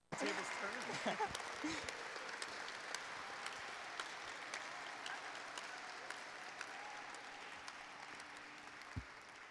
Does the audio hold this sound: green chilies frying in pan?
no